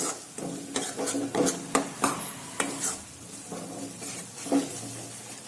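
A spoon stirs roasted gram flour into paneer bhurji gravy in a pan, making repeated rhythmic scraping and clinking strokes over a soft sizzle, close up with no talk.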